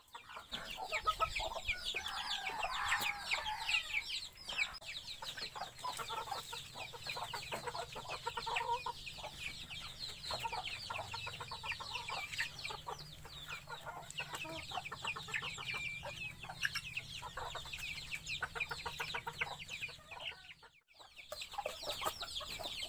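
Chickens cluck continuously throughout, a busy flock of overlapping calls at moderate distance, with no talking.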